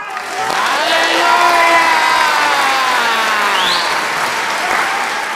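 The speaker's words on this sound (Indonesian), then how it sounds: "Mari kasih aplaus." A crowd at a pastor's gathering breaks into sustained loud applause mixed with cheering, whoops and shouts that stay dense and continuous throughout, with rising voices riding over the clapping.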